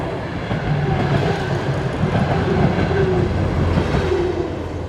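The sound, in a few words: diesel train passing without stopping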